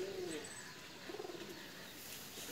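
A Pakistani flying pigeon gives soft, fairly close coos, one near the start and a short rolling series midway, over steady outdoor background hiss.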